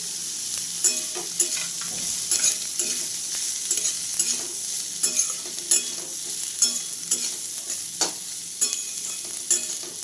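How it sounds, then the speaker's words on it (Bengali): Steady sizzling of cabbage, carrot and egg stir-fried in a hot pan for egg chowmein, with frequent sharp scrapes and clinks of a spatula tossing the ingredients. "এগুলো আমি একটু ভাজা ভাজা করে নেব"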